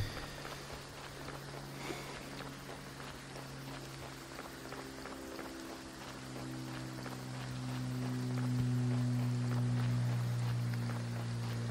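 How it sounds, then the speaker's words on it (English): Rain in the video game Graveyard Keeper, a steady soft patter of raindrops under a low droning in-game music bed that swells toward the end, quiet and continuous without talk. "Is it always raining?"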